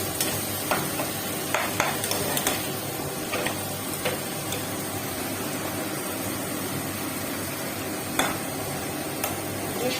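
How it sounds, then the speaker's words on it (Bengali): A masala of cumin, chili paste, onion and tomato fries in a pan, a continuous close sizzle punctuated by irregular spoon scrapes and clinks as it is stirred, with no voices. "এবার এটা ভালো মতো কষে জল দেবো।"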